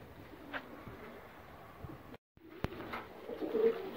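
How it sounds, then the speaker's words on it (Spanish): Pigeons cooing softly in a loft, low and fairly distant, with a few brief knocks and a short gap of near silence. "Les voy a mostrar unas palomas ahí que están vendiendo."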